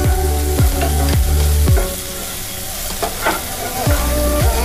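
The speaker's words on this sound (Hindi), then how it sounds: "इसको थोड़ा फ्राई करना है थोड़ा सा" Vegetables stir-fry in a pan for a veggie burger filling, giving a loud steady sizzle broken by repeated scraping strokes of a spatula, with no voices.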